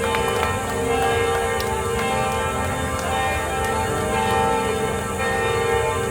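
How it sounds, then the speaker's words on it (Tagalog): A church bell rings steadily and loudly over a dense, continuous wash of overtones at an outdoor rally in the Philippines, its tolls blending into a sustained metallic drone. "Salamat po at nataon na dumadagongdong ang ating kampana."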